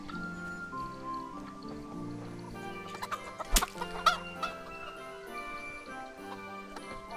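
Chickens clucking and squawking in the medieval game Kingdom Come: Deliverance while being punched, with a couple of sharp impact bursts midway over a steady background of game music and ambience.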